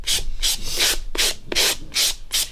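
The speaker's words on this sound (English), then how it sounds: "I hold the sanding sponge at a 45-degree angle, more or less, and then sand down" Rhythmic rasping strokes of a sanding sponge rubbed back and forth on wood, about six close, even passes.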